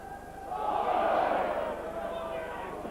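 Crowd at a 1993 St Helens versus Halifax rugby league club match swelling into a loud collective shout of protest, rising and fading over a couple of seconds beneath a match commentator's voice.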